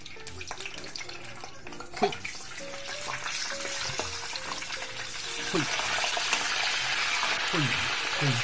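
Freshwater long-armed prawns, salted, peppered and rinsed, go into hot oil at home and fry with a rising, steady sizzle and crackle, growing louder and denser over several seconds. Faint background tones and occasional clinks sit under it.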